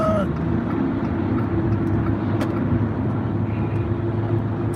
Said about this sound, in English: Got a slow garbage truck,